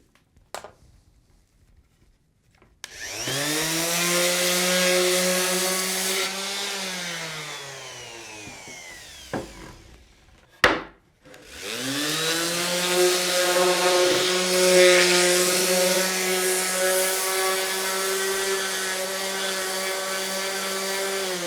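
Construction lumber is power-sanded for a farmhouse table: a loud, steady motor whine with grinding wood contact runs for several seconds, stops briefly with a sharp knock, then starts again and continues to the end.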